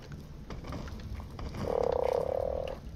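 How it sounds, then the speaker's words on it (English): A frog gives a single sustained, buzzy croak lasting about a second, fairly loud and close, over a low background hum with no voices. "It's frog."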